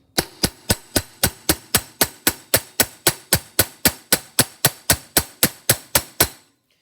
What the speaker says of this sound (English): I'm going to take my ball peen hammer and strike down and continue to form the rivet now.